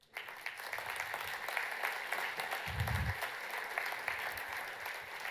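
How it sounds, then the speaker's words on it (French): A conference keynote audience applauds, sustained dense clapping from a large crowd that fills the room evenly and holds steady throughout without a clear peak. "Je pense que vous pouvez vous applaudir."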